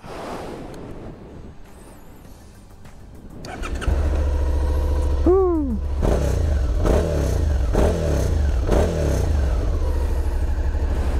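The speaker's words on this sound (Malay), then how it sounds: "kita nak start dan dengar dulu bunyi enjin V-twin iconic SV650" A 2021 Suzuki SV650 V-twin motorcycle engine is cranked and fires up after a quiet stretch, then settles into a loud, steady idle with several sharp revving blips, close to the microphone.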